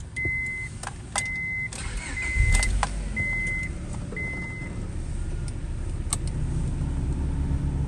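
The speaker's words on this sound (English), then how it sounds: "And I'll crank it up for you." A 2000 Honda Prelude SH with 56,000 original miles cranks and starts, then settles into a steady low idle rumble with a few sharp clicks and switch sounds over it, close by, with no talking.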